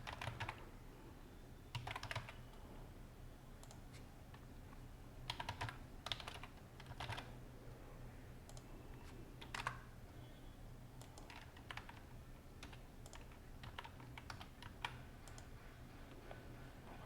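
Someone types on a computer keyboard, a long run of quiet close key clicks in uneven bursts with short pauses, with no speech.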